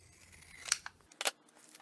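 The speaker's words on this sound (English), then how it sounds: "so I'm just going to trim it down." Scissors cut paper scraps for a mini junk journal in two or three quick, crisp snips. They sound close but quiet against a soft, still background.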